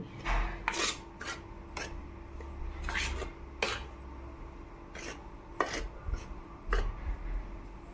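A metal spoon stirs flour with hot oil in a bowl for Khandeshi batti dough, giving repeated scraping clinks and rasps at an uneven rhythm, close and fairly clear, with no talking.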